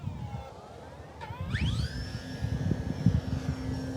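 Arrows Bigfoot 1.3 m RC airplane flying overhead with flaps, its electric motor whine rising sharply in pitch then holding a steady high tone over outdoor wind noise.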